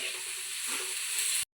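Onions sauté in a pan for a fish curry, a loud, bright, continuous sizzle that stays close and steady for about a second and a half before cutting off abruptly.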